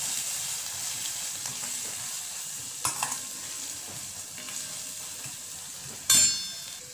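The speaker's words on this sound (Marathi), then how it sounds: "आता हे छान आपण परतून घेऊया" Chili powder, coriander powder and kitchen king masala are sautéed in a pan. A steady sizzle runs under spoon stirring, with a few scraping knocks and a sharp metallic clank near the end.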